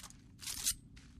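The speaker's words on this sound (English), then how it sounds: "Load your weapon." A weapon is loaded in the Titanfall 2 pilot training campaign, a short sequence of crisp metallic clicks and a scraping slide, close and fairly quiet.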